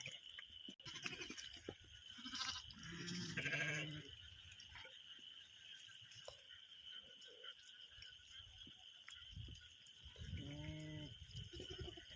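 Several sheep bleat in short wavering calls, one around the middle and another near the end, over a steady outdoor hiss of wet background noise in the rain.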